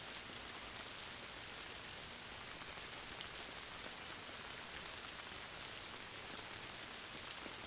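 Steady rain falls in a dense, continuous hiss of countless drops hitting a surface, even and unbroken throughout with no voices.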